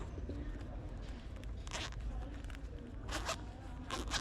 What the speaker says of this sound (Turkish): Su geçirmez fermuardan, fermuardan yapmışlar.